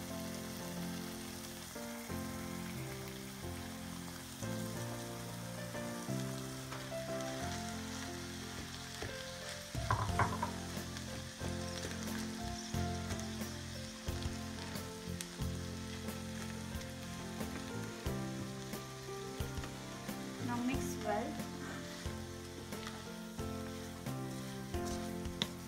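Poha rice flakes frying with green peas and onion give a soft, continuous sizzle with light stirring scrapes, faint beneath steady background music, with no talking.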